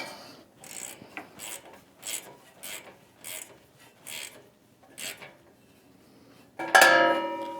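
A throttle cable being tightened on a Craftsman engine: a run of short, rhythmic scraping and ratcheting strokes from a hand tool, close by, ending in a loud, sharp metallic ding.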